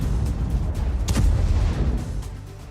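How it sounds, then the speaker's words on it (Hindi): Heavy bombardment in a war zone produces a sustained low rumbling roar with a sharper burst near the middle, dense and loud throughout like distant artillery blasts. "इजरायली सेना ने भीषण बमबारी कर हिजबुल्लाह के आतंकी बेस को ध्वस्त कर दिया।"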